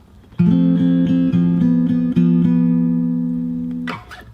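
Solo fingerstyle acoustic guitar plays a bar of a song in C, with spaced plucked bass notes and evenly picked treble notes ringing together, close and steady, closing with a brief strum.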